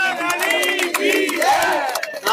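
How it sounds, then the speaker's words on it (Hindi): A crowd at a devotional gathering in India erupts in loud cheering, with raised shouting voices blending together and some clapping mixed in, close and energetic throughout. "तालियां भाई, जोरदार तालियां"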